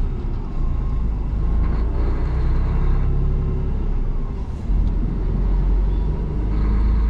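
A car drives along a rainy German highway in the truck driving game Truck Mania, with a continuous loud, low engine and road rumble that holds steady, and no voices.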